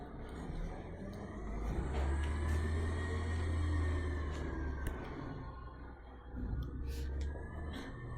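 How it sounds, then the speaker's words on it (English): Garbage truck rumbling past outside a classroom, a low engine drone that swells and fades over several seconds with faint higher whine and distant clatter, heard from indoors. "We'll let the trash truck go by."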